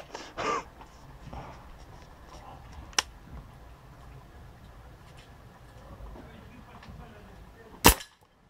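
A Stoeger RX20 TAC Dynamic air rifle fires at a target 20 meters away, with two sharp cracks spaced several seconds apart amid quiet outdoor background, the second shot louder.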